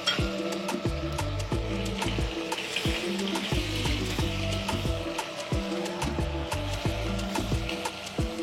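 Bone-in curry-cut chicken pieces frying in a pan give a steady crackling sizzle, with repeated sharp clicks and scrapes of a utensil against the pan throughout, close and moderately quiet.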